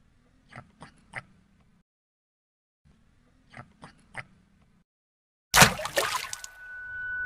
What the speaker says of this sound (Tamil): தண்ணியெல்லாம் நல்லா தெரிச்சிட்ட பாரு